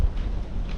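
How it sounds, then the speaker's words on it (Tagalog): Strong wind blowing at the seashore, a brief steady roar of gusts buffeting close by, with no voices. "Malakas ang hangin."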